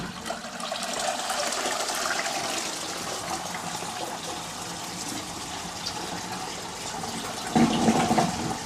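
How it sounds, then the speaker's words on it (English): A household toilet flushes after its cistern siphon unit is replaced, with water gushing and draining steadily, then a louder surge of refill water near the end. "Now we just test the flush. Should flush fine."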